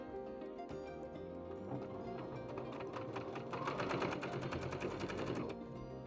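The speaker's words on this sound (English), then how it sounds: "So we sew 1/4 of an inch to this side all the way down." A sewing machine runs steadily while stitching quilt pieces for a fat-quarter flower bouquet quilt, a close rapid mechanical whirr that speeds up briefly near the end, with no talking.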